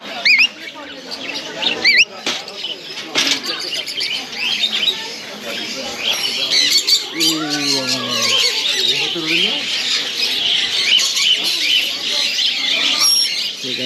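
A parrot at a pet sanctuary squawks and chirps in repeated harsh bursts against a busy background of other birds, with people talking nearby throughout.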